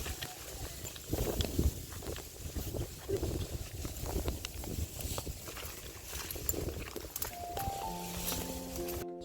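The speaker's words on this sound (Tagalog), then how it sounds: "Hangin kasi, hangin." Steady gusty wind roars across the microphone with low rumbling buffets, joined near the end by a few sustained tones.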